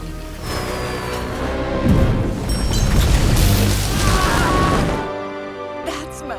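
A cartoon bomb explosion rolls out as a loud, sustained booming crash lasting several seconds, then cuts off abruptly into a quieter tail.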